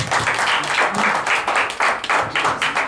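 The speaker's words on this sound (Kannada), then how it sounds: "ಅದಕ್ಕೋಸ್ಕರ ಅವ್ರಿಗೆ ಜೋರಾದ ಚಪ್ಪಾಳೆ ಕೊಡಿ." An audience at a charitable trust event claps loudly and close by, the applause surging in quick rhythmic pulses for about three seconds.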